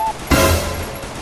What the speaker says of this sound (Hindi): फटाके वटाके फोड़, दिवाली आज।